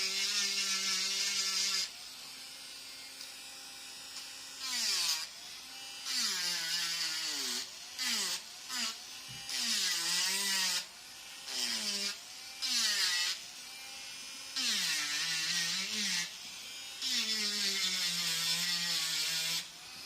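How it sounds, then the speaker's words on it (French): A power tool fitted with a sanding drum grinds against a workpiece in repeated bursts, its high whine rising and falling as the pressure changes, with short pauses between passes, heard close and alone. "Je vais remettre le rouleau de ponçage."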